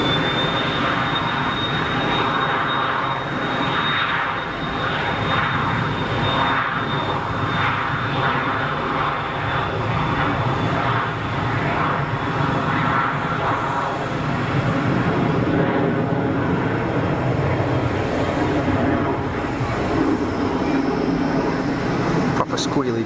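Cessna Citation business jet departing Geneva Airport, a loud sustained engine roar with a high whine slowly falling in pitch, people talking over it throughout.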